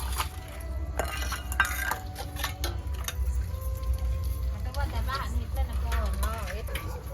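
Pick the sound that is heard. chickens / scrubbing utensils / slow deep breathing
scrubbing utensils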